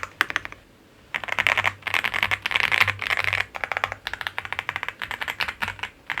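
Keys pressed on a Leobog Hi98 Pro aluminium mechanical keyboard, close and crisp, in rapid bursts of clacking keystrokes separated by short pauses.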